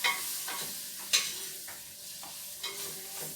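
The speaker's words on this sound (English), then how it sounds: "Okay, so that's spices. Let's give that a stir." A utensil scrapes and stirs spices in a pan for a vegetable curry, with a few sharper clinks against the side, over a soft low sizzle.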